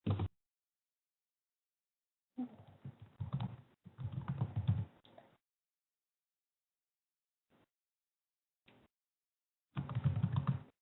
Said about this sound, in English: I hear somebody typing.